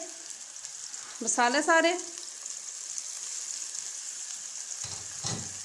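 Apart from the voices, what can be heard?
samosa filling frying in a pan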